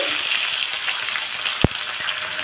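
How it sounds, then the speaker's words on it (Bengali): Ginger paste frying in oil with dried chilli and bay leaf for a prawn and jackfruit dish, a continuous close hiss and sizzle with a single sharp utensil knock partway through. "এবার আদাটাকে একটু ভাজতে হবে"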